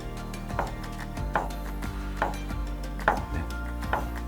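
A knife chops through food on a cutting board in a basic knife-skills lesson, giving about six sharp, evenly spaced strikes close by, each a crisp knock against a steady low background hum, with no talking.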